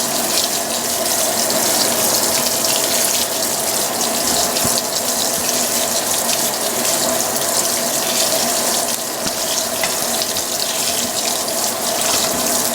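A Fisher & Paykel washing machine fills with water in a steady, loud, continuous gush of running water, unbroken and alone with no talking throughout.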